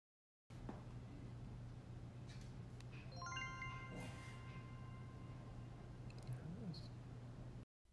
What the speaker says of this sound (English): you'll hear a chime which lets you know the camera is ready to be installed